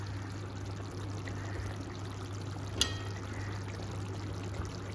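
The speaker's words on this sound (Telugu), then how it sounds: "చికెన్లో నుంచి సాల్ట్ ఇవన్నీ వేయడం వల్ల వచ్చిన వాటర్ ఇదంతా బాయిల్ అవుతుంది." Water drawn from salted chicken boils in a covered pan for a chicken fry, giving a steady, low, hissing simmer with one brief click midway.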